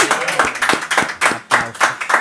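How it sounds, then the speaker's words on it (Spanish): A small audience claps for a guest on a talk show, a close, loud, fairly sparse run of individual hand claps in an uneven rhythm, with no voices over it. "Un aplauso para Gasper, por favor."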